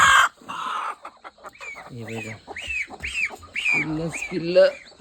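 Chickens on a native-breed poultry farm cluck and call in a run of short, rising notes, several birds close by with one louder burst near the end; no talk over it.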